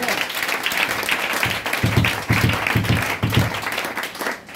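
Congregation applauding during a church service, a dense sustained wash of clapping with rhythmic bursts of cheering swelling in the middle, close and loud throughout.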